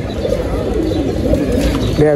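Pigeons for sale coo softly nearby in a low, throaty, rolling murmur that carries through the clip against background room noise.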